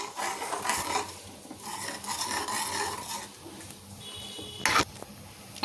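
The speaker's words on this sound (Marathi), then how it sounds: "आता आपल्याला एकत्र हे छान घोटून घ्यायचंय, मस्त असं हलवून घ्यायचंय आपल्याला." A spoon stirs and mashes dal in a metal pot for a dhaba-style dal tadka, steady scraping and swishing with soft sizzling underneath and a brief clink near the end.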